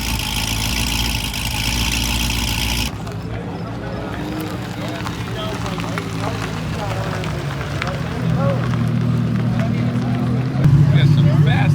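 Loud van engine idling at a busy street car cruise, a rough choppy lope rumbling nearby under crowd noise and voices, growing heavier and louder toward the end.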